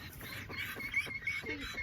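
Ducks quack in short repeated bursts at moderate distance, with some faint background noise among caged birds.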